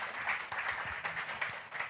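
An audience at the AI & Analytics Conclave 2023 claps in a short burst. The quick, overlapping claps fill the whole moment at a moderate level.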